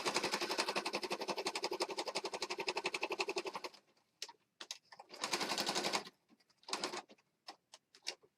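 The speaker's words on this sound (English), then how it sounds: "I am sewing on some pretty thick chipboard, so it takes some work sometimes to get it" A sewing machine stitches down an edge through thick chipboard for a junk journal, running in a long steady rapid burst, then in short halting spurts and a final longer run, close up with no talk.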